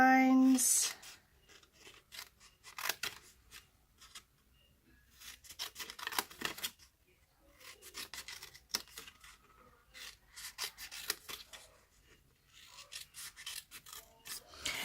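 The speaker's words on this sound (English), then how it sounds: "Cut up all our score lines." Scissors cut along score lines in paper in short, rasping snips and scraping strokes, close and intermittent, separated by brief quiet gaps and the occasional rustle of the sheet being handled.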